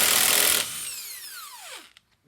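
Power tool spinning off a lug nut on a Mini Cooper wheel: a brief loud burst of whirring, then the motor winds down in a falling whine and stops.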